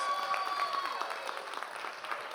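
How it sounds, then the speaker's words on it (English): Audience applause at a live event, a short burst of steady clapping from a small crowd in a room, fairly close, with no pause in it. "All right, Neilani, round of applause."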